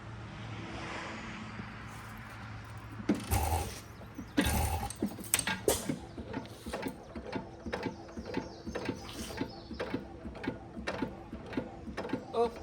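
A hit and miss stationary engine being started, with a couple of heavy knocks and bursts followed by a steady run of sharp mechanical clicks and pops at an even rhythm, close and moderately loud.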